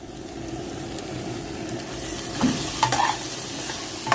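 Raw prawns frying with masala in a pan, a continuous close sizzle broken by several stirring clatters and scrapes toward the end, no voices.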